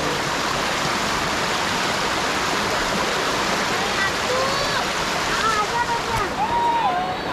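Water pours down the Machi Vardoli waterfall in a loud, unbroken roaring rush that fills the whole scene, with voices faintly audible beneath it.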